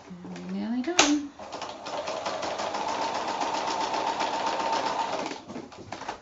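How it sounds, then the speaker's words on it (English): A home sewing machine runs a short lock stitch and reverse stitch to secure the threads while sewing a cushion: a brief low whine and click, then a steady rapid mechanical whirr for about four seconds that fades out. "I've just done a little lock stitch, reverse stitch, just to hold my threads"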